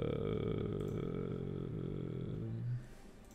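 A low, rough dog growl from the video game Dofus rumbles steadily, then ends in a short deep grunt.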